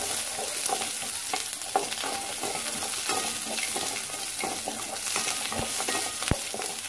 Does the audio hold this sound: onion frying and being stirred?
yes